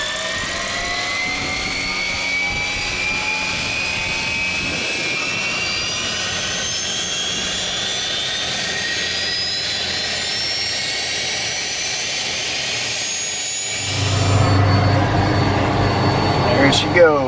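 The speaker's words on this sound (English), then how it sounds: "Turbine spooling up." Turbine engine of a Cessna Citation 501 business jet spooling up on the ground, a loud rising whine that climbs steadily in pitch, then a deeper roar swells in near the end.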